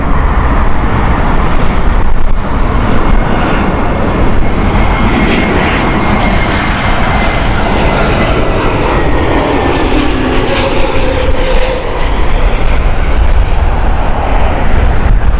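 A Lufthansa jet airliner in a special Pride livery at Heathrow gives a loud, sustained engine roar that stays steady and close throughout, with a faint whine sweeping across it.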